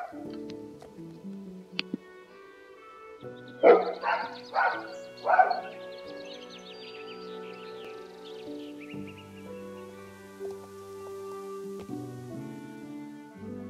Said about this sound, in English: my dogs barked when I said hello